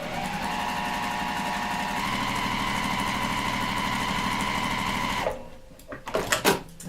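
A sewing machine stitches a fabric square onto a quilt corner, running steadily and loudly for about five seconds before stopping, followed by a few brief handling clicks.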